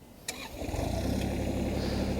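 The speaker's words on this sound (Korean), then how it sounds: "엔진 오일 교환이 끝나고 이제 시동을 한번 걸어 보도록 하겠습니다." A Hyundai R25Z mini excavator's engine is started just after an oil change: a short sharp crank, then the diesel catches and settles into a loud, steady, close idle.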